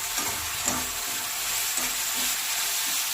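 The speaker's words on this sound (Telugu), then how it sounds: "ఉల్లిపాయ పచ్చి పచ్చిమిర్చి కరివేపాకు బాగా మగ్గినాక కొద్దిగా ఉప్పు యాడ్ చేసుకొని కలుపుకోవాలి" Sautéed onion, green chili and curry leaves with salt being stirred in a pan, a constant frying sizzle with several soft spoon strokes at a steady rhythm, no voices.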